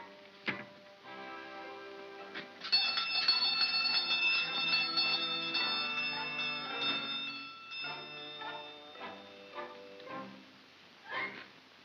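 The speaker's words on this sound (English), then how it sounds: "Ring the bell." A doorbell rings at a house door at night in a 1934 comedy film scene, producing bright sustained chiming tones with a ticking, clock-like ring that starts sharply and fades over several seconds.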